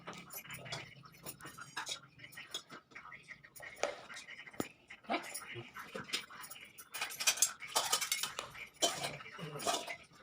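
In a home kitchen a tiffin box is packed with food, with close clinks of cutlery and clatter of steel dishes and lids coming in irregular bursts while someone talks quietly.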